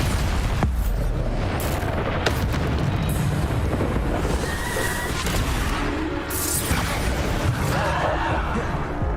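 Bombarda spell blasts in Hogwarts Legacy combat, loud booming explosions and crashing impacts layered densely with other spell effects, continuous heavy roar with sharp bursts.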